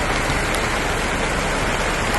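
Steady rain falls in Jamaica, a dense, even hiss of drops on surfaces that continues unbroken and fairly loud, with no voices.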